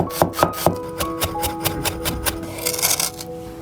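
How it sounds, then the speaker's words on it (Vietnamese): A knife mincing shallot on a cutting board in a home kitchen gives a fast, uneven run of sharp chopping taps, close and fairly loud, with no voices over it. "Một củ hành tím cũng băm nhỏ luôn."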